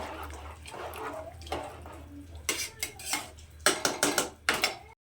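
A spoon mixes slit green chillies in a metal cooking pot for methi pulao, with soft scraping early on giving way to a run of loud, sharp metallic clanks toward the end.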